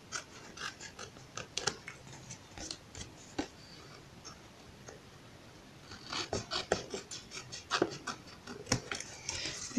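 Scissors trimming the surplus from a handmade scrapbooking card, a quiet series of irregular crisp snips and paper scratches, with pauses between cuts and no talk.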